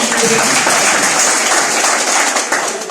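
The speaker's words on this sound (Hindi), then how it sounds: "आपके लिए एक जोरदार ताली" A loud, dense wave of audience applause, with many hands clapping at once in a steady roar that holds at full strength from start to finish.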